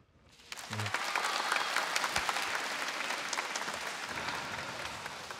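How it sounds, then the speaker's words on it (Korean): A lecture audience breaks into sustained applause, many hands clapping densely after a brief pause, steady and fairly distant before slowly tapering. "여러분 제빵사님에게 다시 한번 큰 박수 부탁드릴게요"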